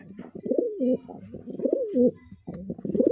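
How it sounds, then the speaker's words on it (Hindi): Kaasni highflier pigeons of an old breed coo close up in repeated throaty, warbling phrases, a few bubbling calls overlapping in an uneven rhythm. "पुरानी नस्लों का कबूतर है"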